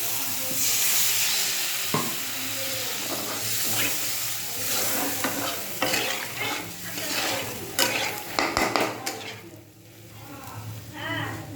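Water goes into a sautéed egg curry in a hot pan, setting off a loud steamy hiss that settles into bubbling. Spoon stirs and scrapes rattle against the pan, with a voice briefly in the background.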